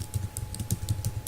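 Close computer keyboard typing while entering C code, a quick irregular run of about a dozen crisp key clicks with no talk.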